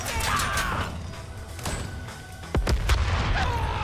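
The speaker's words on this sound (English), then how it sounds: "I think that was a gas container exploding" Gas container exploding in Deathloop: a sharp booming blast with surrounding gunfire-like bursts and rumbling, loud and close amid ongoing action noise.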